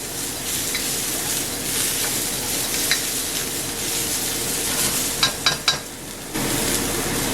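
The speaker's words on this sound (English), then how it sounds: "Just that onion caramelizing." Onion caramelizing in a hot pan, a steady loud sizzle with stirring scrapes and a quick run of spoon-on-pan clinks near the end before the hiss surges again.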